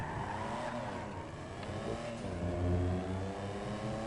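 A Benefactor Sterling GT Sports Classic in GTA V revs loudly and steadily, its engine note swelling and dipping in pitch with a slight surge near the end, with no voices.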